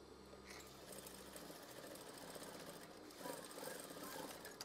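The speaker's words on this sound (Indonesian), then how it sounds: "Setelah itu sewing, jahit saja." A sewing machine runs continuously at close range as it stitches a green curtain tie, a steady fast whirring hum that shifts pitch slightly partway through, with no talking.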